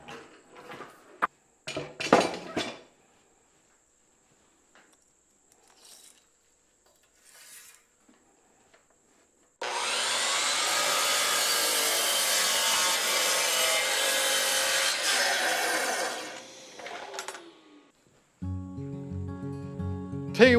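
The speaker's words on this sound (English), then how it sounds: "Let's cut this one down to size, run it through the molder," A saw cuts a wooden board to size in a workshop, giving a loud, sustained rasping cut of several seconds after some scattered handling knocks and thumps, then a brief mechanical hum at the end.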